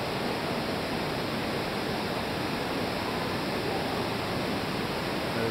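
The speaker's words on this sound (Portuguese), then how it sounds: "Aqui embaixo é a água" Underground river water flowing through the Caverna do Diabo cave; a constant broadband rushing roar with no breaks, fairly loud and even throughout, no voices.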